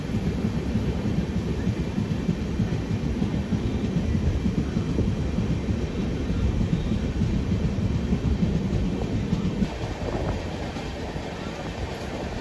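Rumbling train noise beside the Amrapur Aravali Express linking Sri Ganganagar and Bandra on a Rajasthan line, a loud steady roar of rolling carriages that eases off near the end.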